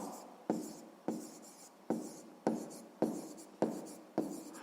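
A pen writing on paper during a sixth-grade maths exercise, a series of about eight close, crisp scratching strokes in a regular rhythm, each starting sharply and trailing off, with no voices.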